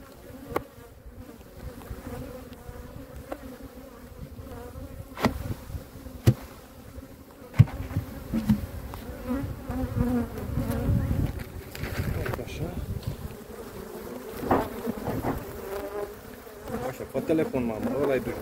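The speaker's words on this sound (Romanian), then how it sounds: "Mai am albina din cutie." A constant, dense buzzing of many honeybees around a hive fills the air, with wind rumble and occasional knocks and handling noises throughout.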